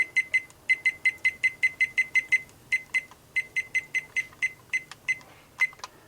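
A heat press timer being set, giving a long series of short, clear electronic beeps in quick rhythmic bursts, with brief pauses between runs, close and fairly loud.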